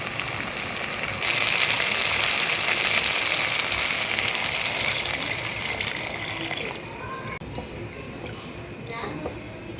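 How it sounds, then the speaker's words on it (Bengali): Water poured into a pan of fried curry spice paste for a Bengali katla fish curry, a steady gushing pour joining the bubbling spices for several seconds before easing off, with no talk. "এরপর আমি এর মধ্যে আরও জল আর কি যে প্রয়োজনীয় জল সেটা অ্যাড করবো"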